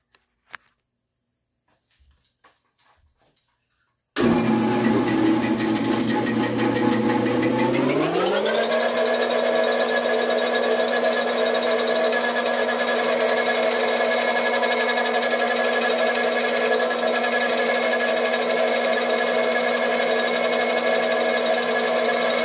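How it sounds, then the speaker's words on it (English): A bandsaw starts up with a rising whine and then runs at a steady, loud, sustained drone for a wooden lobster pond yacht boat build, preceded by a few faint workshop clicks and no talking. "now over to the bandsaw."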